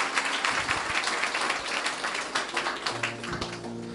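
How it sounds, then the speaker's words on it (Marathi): A church congregation clapping loudly in praise, a sustained dense wave of many hands with some sharper individual claps near the front, continuing throughout with faint voices beneath. "जरा जोरदार टाळ्या प्रभूच्या गौरवासाठी"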